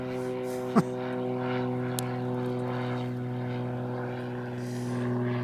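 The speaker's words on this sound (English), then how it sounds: "Fine time for an aeroplane to be flying past." A propeller aircraft drones steadily overhead, a constant low engine hum filling the clip, with a brief sharp knock near the start.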